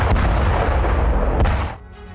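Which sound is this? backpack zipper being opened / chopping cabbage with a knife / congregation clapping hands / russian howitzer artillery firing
russian howitzer artillery firing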